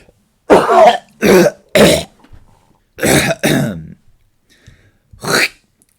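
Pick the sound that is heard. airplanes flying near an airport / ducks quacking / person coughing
person coughing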